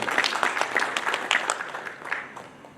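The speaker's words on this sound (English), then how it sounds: "So please give her a round of applause as well." A seated audience at a printing-industry road show in Haridwar gives a short, moderately faint round of applause, steady scattered clapping that tapers slightly toward the end with no voices over it.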